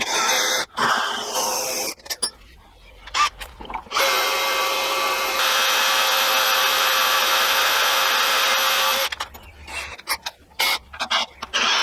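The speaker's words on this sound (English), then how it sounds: "So now we can drill the rest on the side" A power drill whirs into metal in a long, steady run after several short bursts, with more brief stop-start drilling toward the end, drilling parts for a Nashorn Pak 43/41 gun cradle sled.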